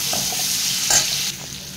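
Onions frying in a pan with cumin seeds already tempered in the oil, a steady broadband sizzle with a brief louder flare near the middle, heard alone at close range.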